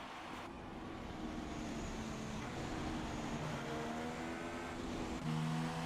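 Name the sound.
race car engine on a flying lap in an F1 video game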